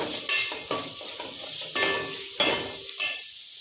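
A spoon stirs red chilli flakes into khichdi in a pan, giving several distinct scraping strokes at an irregular rhythm over a soft sizzle, close and fairly quiet.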